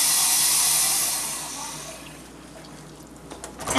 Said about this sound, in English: Then fill a mug with water